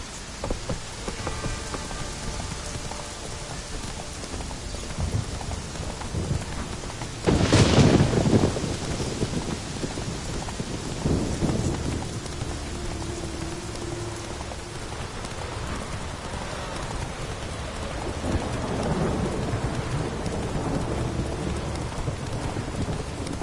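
Steady rain patters on surfaces in The Witcher 3, broken by a loud, close thunderclap early on and a softer rumble later, all under a constant wash of rainfall.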